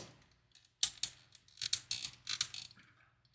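A plastic part of a Fanhome Optimus Prime model is pressed onto a pin, giving a quiet, close run of small clicks, creaks and snaps spread over a few seconds.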